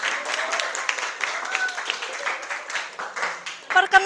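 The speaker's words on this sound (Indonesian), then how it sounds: "Beri aplaus untuk kelompok 1." Applause for a student group in a classroom presentation, a few seconds of scattered, moderately loud clapping from a small crowd, with voices underneath and a brief louder burst at the end.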